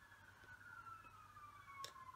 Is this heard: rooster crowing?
no